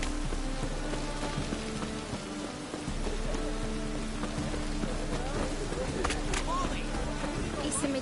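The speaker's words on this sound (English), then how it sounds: "Looks like rain." Steady rain falls in The Witcher 3 video game, a continuous soft hiss of drops with a low background hum and faint game sounds layered throughout.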